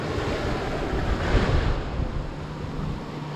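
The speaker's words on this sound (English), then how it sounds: "and it is windy" Surf washing onto Bundigi Beach beside a small boat ramp, under strong wind that buffets the microphone with low rumbling gusts, steady and close with one swell in the middle.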